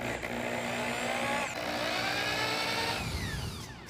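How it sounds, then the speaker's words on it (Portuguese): Small drill with a fine 3 mm bit boring a hole in wood for carved lettering, a close whining motor that rises and dips in pitch for a few seconds and then winds down. "eu fiz um furo no E, bem pequeno, uma broca de 3mm de espessura, bem fina"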